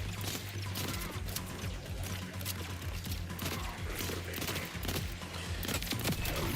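Pistol gunfire in the video game Borderlands 4, a dense, steady barrage of shots with mechanical clatter continuing throughout at a fairly even level.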